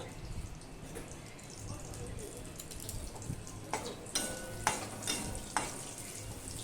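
Panch phoron spices drop into hot white oil for tempering and crackle in a faint, steady sizzle, with a few louder pops and stirring clicks toward the end.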